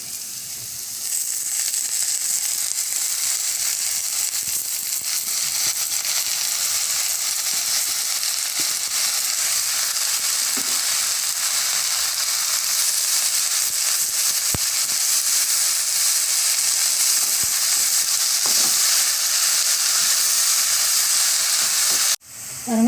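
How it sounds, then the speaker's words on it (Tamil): Amaranth greens sauté in a hot pan with a steady, loud sizzle and hiss that holds even for over twenty seconds, with faint stirring scrapes, then cut off abruptly near the end. "பாருங்க, கீரை நல்லா வதங்கிருச்சுங்க."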